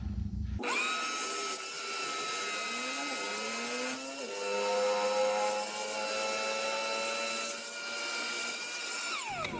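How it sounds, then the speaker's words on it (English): A shop vacuum runs steadily close by while sucking debris out of the differential area of a 1978 GMC squarebody crew cab truck, its motor whine shifting pitch as the nozzle moves, then cutting off at the end. "I'll try my best to get my vacuum here."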